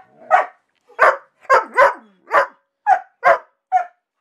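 A single dog barks sharply eight times in a steady series, loud and close, with clean silence between the barks.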